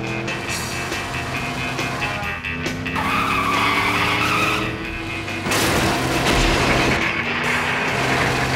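Cartoon cars skid through a chase, with loud, sustained tire squeals sliding in pitch and engine roar running continuously, a sharp burst near the end.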